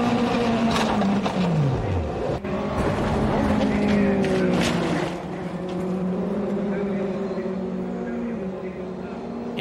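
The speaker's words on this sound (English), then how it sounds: "Gunning his car to 129 miles per hour, he has no idea he's steering toward utter disaster." A race car speeds around the Oulton Park circuit at about 129 mph, its engine note sweeping down in pitch and then holding a loud, steady roar, with a commentator's voice running over it.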